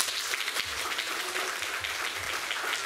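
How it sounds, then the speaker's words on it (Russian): An audience at a school graduation ceremony claps steadily, a continuous, even patter of applause throughout. "Поддержим аплодисментами."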